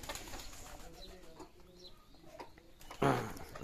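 Pigeons coo faintly and softly at the nest while feeding their young, with a brief louder rustle or flutter near the end.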